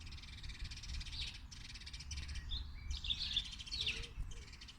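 Birds chirp outside in short, repeated bursts of high tweets and calls, faint and somewhat distant over a low background rumble.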